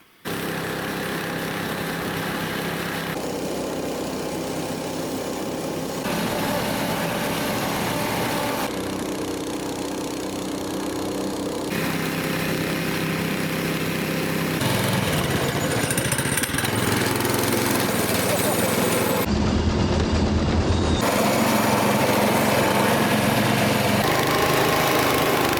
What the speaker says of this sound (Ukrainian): Ну да, тут и машина, и О! мотоцикл.